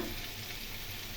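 Ground spices with grated ginger and green chilli are sautéed in a pan for an Oler Dalna, a brief, faint, even sizzle heard close and alone.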